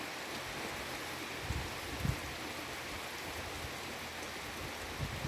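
Steady, fairly quiet rain hiss in Chernihiv, Ukraine, fills the whole stretch, with a few soft drip-like thumps standing out now and then; no voices.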